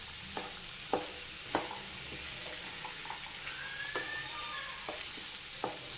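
A spoon stirs black chickpea masala with chopped coriander in a pan over medium flame, giving a soft sizzle with sharp scraping clicks every half second or so, fairly faint and with no talking.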